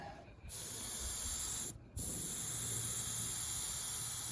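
Aerosol spray paint hissing onto a Baja 5T RC car body shell in two steady bursts with a brief pause between them, close and fairly loud.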